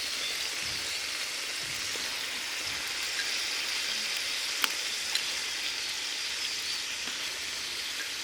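Fish sizzling and frying in hot oil with coriander, chilli, onion and garlic paste, a steady close crackle throughout with a couple of sharp pops, no voices.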